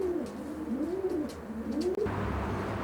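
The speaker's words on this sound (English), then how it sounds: "What a pair of pigeons." Racing pigeons coo softly in a stock loft, a steady wavering low warble that rises and falls continuously, close and fairly quiet with faint rustling, and no voices.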